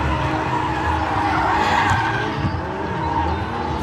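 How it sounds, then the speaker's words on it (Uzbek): A motorcycle drifts at a show in a drift zone, its tires skidding and squealing in a continuous loud screech with engine noise beneath, heard without any speech. "Hozir driftga mototsikl chiqyapti, mototsikl driftiga ahamiyat beramiz."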